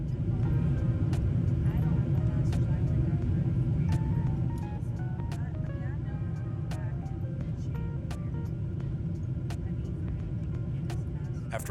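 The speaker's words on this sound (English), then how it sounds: "our 767 touches down at London Heathrow" Delta Boeing 767-400 airliner on final approach and landing at London Heathrow, a steady loud cabin rumble with engine and airflow noise, short bumps and clatters, and talking in the cabin.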